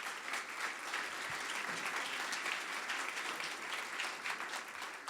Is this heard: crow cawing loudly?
no